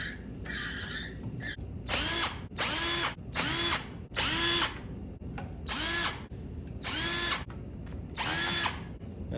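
A pump on a 1974 Ford F100 with a new AOD transmission whirs in repeated short bursts, each one a rising motorized whine separated by brief pauses, with no one talking.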